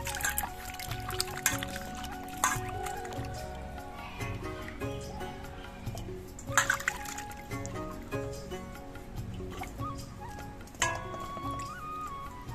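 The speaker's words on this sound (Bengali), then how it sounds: "আমগুলো আমি আর একবার ধুয়ে নিচ্ছি, এতে আমের সমস্ত কষগুলো বেরিয়ে যাবে।" Mango pieces rinsed in water in a village kitchen, with steady trickling, pouring and splashing close by and a few light clinks of a vessel, no talking.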